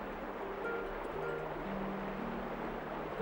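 River water flows in a steady, continuous wash with a low rumble. It stays even and moderately quiet throughout, with no voices.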